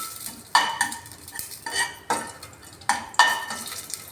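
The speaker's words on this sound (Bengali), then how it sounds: "জিরেটা দেবার পর কি করব, আমি এটা একটু ভেজে নেব" Cumin seeds fry in a pan for jeera rice while a spoon stirs them in several sharp scraping strokes, each followed by a short crackling sizzle, close and clear with no talking.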